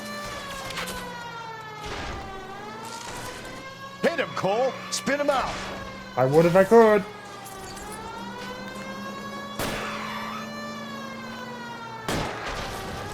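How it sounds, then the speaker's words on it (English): A police siren wails steadily throughout a chase in the video game L.A. Noire, sounding close and continuous under excited dialogue, with short bursts of gunfire and engine noise breaking in. "Siren on."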